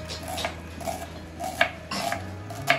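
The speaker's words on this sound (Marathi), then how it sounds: "बारीक कांदा चिरून घ्यायचा आहे पहिल्यांदा" A knife finely chopping onion on a board, an ingredient for spicy homemade khima pav. A few sharp, sparse cuts land close by over a low kitchen hum, with no talking.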